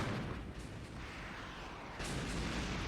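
Muffled battlefield gunfire and artillery booms rumble far off during a Soviet assault at Fulda in the wargame Armoured Brigade, faint and continuous with a slightly louder burst near the end.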